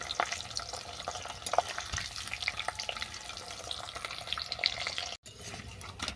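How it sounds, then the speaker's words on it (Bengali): Pieces of roti deep-fry in bubbling oil, a continuous moderate sizzle with scattered crackles and faint stirring. "এগুলোকে পাঁপড়ের মতো কড়া করে ভেজে নিতে হবে"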